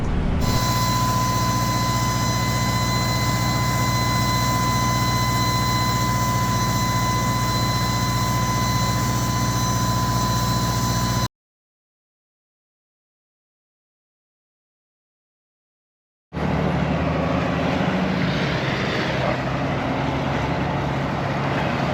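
A 44-tonne HGV lorry engine labouring up through snow, a loud, steady low drone with a constant whine that cuts out to silence, then comes back as a heavy, rougher engine roar.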